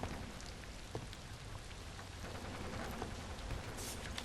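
Rain falling in the video game Portrait of a Torn, a steady soft hiss of drops on the ground and a tent with scattered louder patters, faint thunderlike rumble low beneath.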